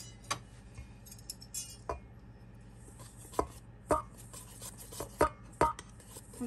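Blueberry cupcake batter of flour, baking powder or soda and a pinch of salt being stirred in a bowl, giving irregular light taps and clinks of a utensil against the bowl over a low steady background hum.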